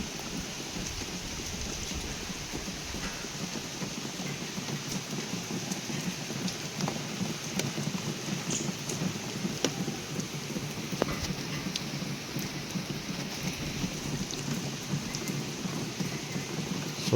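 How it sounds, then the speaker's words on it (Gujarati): A heavy winter downpour in Mehsana, a dense constant roar of rain on surfaces with a low rumble beneath, steady throughout at moderate distance; no one speaks. "જોવા ધોધમાર વરસાદ ચાલુ થઈ ગયો છે"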